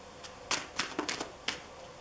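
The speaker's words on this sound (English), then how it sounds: "I'm going to continue shuffling" Tarot cards are shuffled by hand in a series of quick, crisp riffling snaps and slaps, close and fairly quiet, with no talking.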